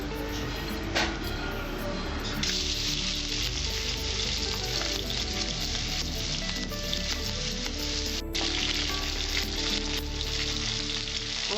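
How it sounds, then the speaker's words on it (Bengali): Marinated prawns frying in hot oil, a loud continuous sizzle with crackling bursts and occasional stirring, steady and close throughout. "এখন আমি এটা তেলে ভাজবো।"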